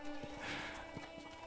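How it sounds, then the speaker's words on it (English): Horse hooves in Red Dead Redemption clip-clop in a steady, soft walking rhythm, faint and close under a constant ambient hum. "Is that her horse?"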